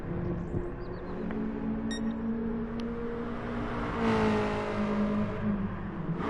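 Race car engine in a racing video game on a slow, short-shifted lap at Circuit de St. Croix: a steady low drone that rises slightly in pitch, mixed with whirring and a few brief clicks.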